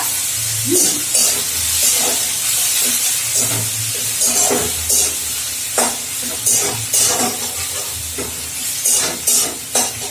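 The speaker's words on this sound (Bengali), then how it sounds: "এলাচ লবঙ্গ ভাজা হয়ে গেছে এবারে আমি যেটা দেবো ওর মধ্যে একটুখানি পেঁয়াজের বাটা" Onion paste dropped into cardamom and cloves frying in hot oil, a steady sizzle with repeated stirring scrapes and soft spatters, close and continuous.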